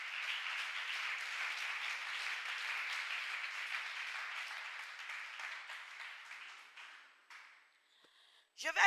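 A church congregation claims for the Lord in sustained, dense applause for about seven seconds, then it thins out and fades, with a brief burst of sound right at the end.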